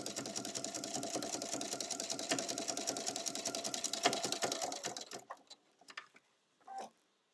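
A sewing machine stitches a fabric bag in a rapid, steady mechanical chatter, then stops abruptly and leaves a few scattered clicks and handling noises in quiet.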